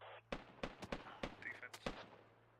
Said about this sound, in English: We got mortars coming in, boys.